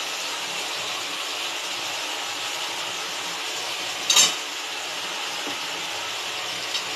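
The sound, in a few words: spice paste frying in oil with onions and green chillies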